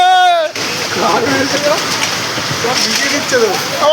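Heavy rain pours down in Garia, Kolkata, a steady dense wash of noise that runs for several seconds after a brief tonal sound at the start, with people speaking over it.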